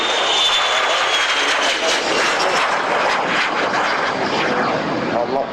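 Aerobatic propeller aircraft performing a tumbling inverted spin at an air tattoo, a sustained loud engine roar with slight surging across the whole span, steady and close.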